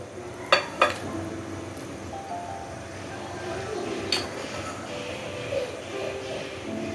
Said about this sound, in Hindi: अब जो हमने गोश्त गलाया वो इसमें डाल दें।